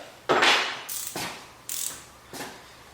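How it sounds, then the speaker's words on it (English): A ratchet wrench clicks in four separate bursts while loosening a nut on an old 1962 AMC Rambler, each short run of ratcheting loud and close, with brief pauses between strokes. "Alright, ratchet wrench, please fit. Oh yes, the ratchet wrench fits in here."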